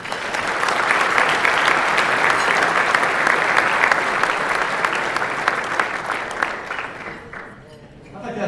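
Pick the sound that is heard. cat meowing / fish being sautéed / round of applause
round of applause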